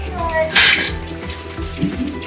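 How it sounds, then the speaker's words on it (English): Children wash their hands with soap under a running tap, steady splashing water with a brief louder gush, handling and clinks around the sink, while kids and an adult talk over it. "Okay guys, wash your hands properly."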